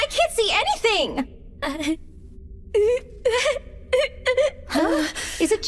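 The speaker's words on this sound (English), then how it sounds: "Is it just me, or does it sound like someone is crying?" A voice in an English-dubbed anime sobs and wails in broken, shaky bursts with gasps between them, close and clear against a quiet background.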